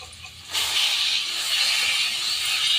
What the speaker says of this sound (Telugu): ఈ పేస్ట్ని కూడా మనము ఆయిల్లోనే వేసి ఫ్రై చేసుకుందాము